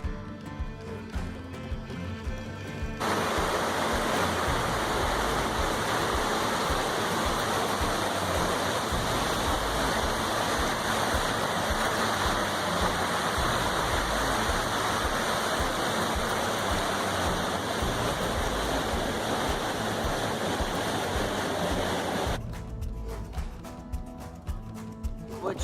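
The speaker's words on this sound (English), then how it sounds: "What you get when you cross glacier streams. This is Ikillik Creek" Glacier stream flowing at Ikillik Creek, Alaska, a steady, loud, close rush of water that swells in after a few seconds, holds evenly, then drops away near the end.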